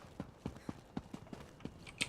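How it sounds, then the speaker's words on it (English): Horse hooves clip-clop steadily in Elder Scrolls Online, an even rhythm of about eight close, distinct hoofbeats while riding, with no talk over them. "It was so much nicer to ride a horse through here."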